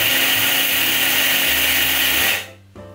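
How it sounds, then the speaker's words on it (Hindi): An electric mixer grinder runs at full speed grinding an Ayurvedic herbal mixture, a loud steady motor whine with rattling contents that cuts off abruptly near the end, followed by a faint clunk. "तो अब हम इस मिक्सी को ऑन कर देते हैं।"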